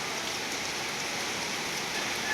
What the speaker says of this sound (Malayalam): അപ്പോൾ തന്ന് നല്ല മഴയാണ് കേട്ടോ.